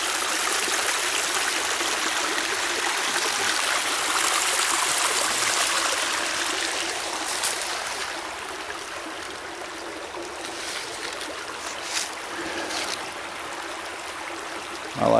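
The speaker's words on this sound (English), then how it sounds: "Man, that's the sound of that water going through those rocks." Creek water rushes and gurgles over rocks at Cane Creek in Cherokee County, South Carolina, a steady close stream sound that softens slightly partway through, with no talk.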